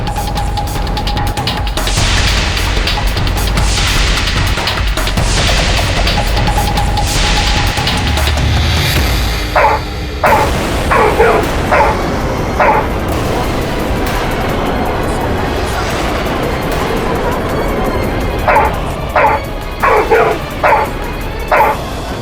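A dog in a courtroom setting barks in short bursts, first a series of loud barks over a busy background, then two clusters of sharp yips and barks after a pause.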